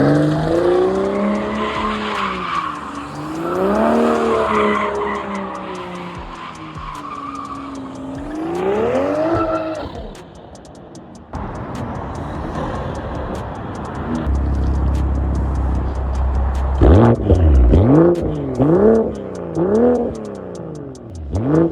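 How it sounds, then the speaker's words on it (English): A BMW M340i snarls through revs and shifts while its tires squeal and skid in long wavering bursts, with a brief quieter gap before more loud engine and tire screeching. "The exhaust sounded pretty good."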